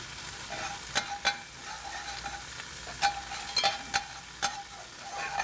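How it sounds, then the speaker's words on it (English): Lemongrass sizzles steadily in hot oil, close and fairly quiet, broken by a few sharp stirring scrapes and clicks. "See, it has to sizzle."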